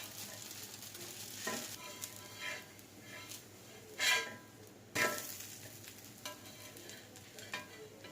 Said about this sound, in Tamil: ஒரு சைட் பொறிஞ்சிருச்சு திருப்பி போட்டுக்கலாம் லைட்டா இந்த சைடு எண்ணெய் போட்டால் போதும்